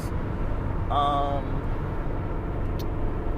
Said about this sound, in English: the car and being on the road, on the freeway, driving down the 210 right now